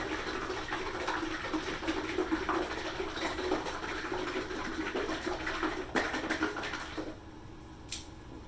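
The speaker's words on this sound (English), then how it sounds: "I'm going to pour the resin in, and we're up just to that notch." 3D printer resin is poured from a bottle into the vat of an Elegoo Mars, making a soft, continuous liquid trickle close by that runs for about seven seconds before stopping, followed by a faint tap.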